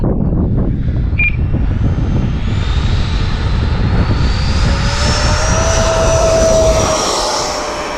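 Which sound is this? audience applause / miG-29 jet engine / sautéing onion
miG-29 jet engine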